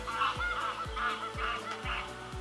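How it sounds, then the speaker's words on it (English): Geese on a lake honk in a steady, repeated rhythm, several calls overlapping at moderate distance over low outdoor background noise. "Geese, man."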